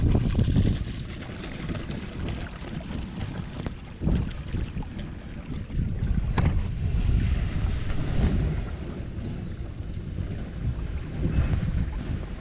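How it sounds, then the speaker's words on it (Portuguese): Strong wind buffets the microphone with a deep, continuous roar that surges and eases in gusts, with no voices. "Ventando bastante."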